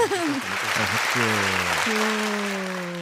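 Studio applause follows a punchline on a Japanese community FM radio show, a steady wash of clapping running under a speaking voice that goes on throughout.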